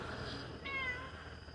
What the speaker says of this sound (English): Here's the cat featured again. It is late at night, so the cat is active.